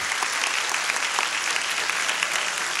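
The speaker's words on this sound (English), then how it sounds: "if we could just give a good round of applause to our speakers here" Dense, continuous applause from a lecture audience thanking the speakers after a talk on confronting racism and sexism, many hands clapping evenly and fairly loudly for about three seconds with no voices over it.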